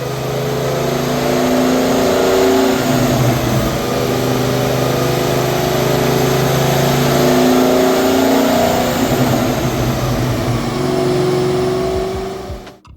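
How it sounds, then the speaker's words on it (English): A Ford SVT Cobra engine roars under load on a dyno, revving hard and steadily for a long stretch, loud and close, before easing off at the end. "we got the car on the dyno again"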